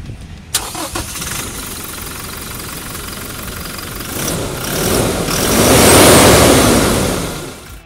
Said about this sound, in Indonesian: kita pengen denger dulu suara mesinnya